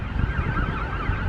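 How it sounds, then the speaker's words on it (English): An ambulance siren in Blackpool wails loud and continuous, its pitch sweeping up and down over steady traffic rumble. "Ambulance. Ambulance!"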